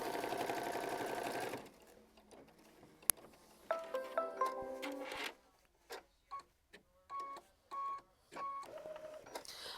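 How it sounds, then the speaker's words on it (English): A sewing machine tacks down a seam on a sewing block in short, loud, close bursts of rapid stitching, separated by brief pauses and ending with a few quick stop-start runs. "you're going to tack that down with machine stitch step 17"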